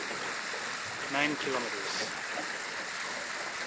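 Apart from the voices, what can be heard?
river water flowing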